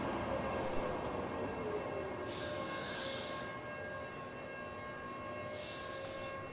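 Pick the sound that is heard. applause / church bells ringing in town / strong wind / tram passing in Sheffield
tram passing in Sheffield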